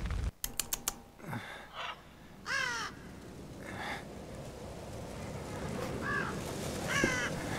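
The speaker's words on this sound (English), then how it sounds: "I hate the sound of birds." Crows caw repeatedly in the horror game The Evil Within, several harsh calls spread across the scene over a faint ambient bed, with a burst of clicking near the start.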